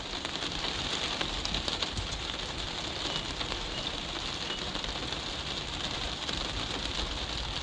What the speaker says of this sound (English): Wow, just listen to that rain.